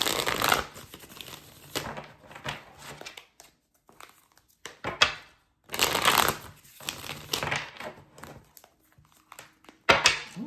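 Tarot cards being shuffled up close in a riffle-and-slide rhythm, with bursts of crisp papery riffling broken by brief quiet pauses and no talk.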